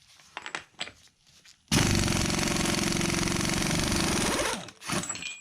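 An Aircat 1178-VXL half-inch pneumatic impact wrench loosens a bolt in one loud, continuous hammering burst of about three seconds, preceded and followed by quieter clanks and handling sounds.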